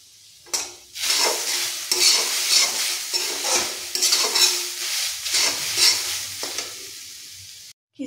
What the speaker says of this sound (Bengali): এবার আমি নারকেল ভালোভাবে ভেজে নেব।